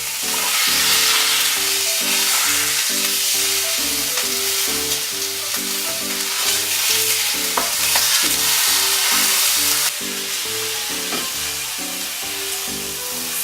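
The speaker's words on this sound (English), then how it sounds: "So now I need to sear off the beef, so I need to get the pan nice and hot. I've already added some oil, and we'll put the beef straight in." Beef for a Beef Wellington sears in hot oil in a pan with a loud, continuous sizzle that runs the whole time. Music plays underneath, and no one speaks.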